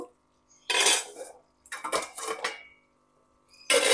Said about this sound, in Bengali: আবারও আমি দু মিনিটের জন্য চাপা দিয়ে দেব